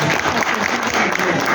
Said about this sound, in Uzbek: Mana qarsaklarni eshityapsizmi?